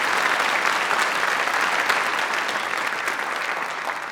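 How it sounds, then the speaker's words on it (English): Audience at a quilt awards ceremony during QuiltWeek in Paducah applauding, steady, dense clapping from a large crowd throughout. "Let's give them all a big round of applause."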